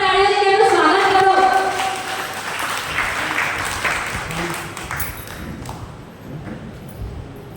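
An audience at a literature and arts event applauds to welcome a guest onto the stage, loud at first and then thinning out as the clapping fades away.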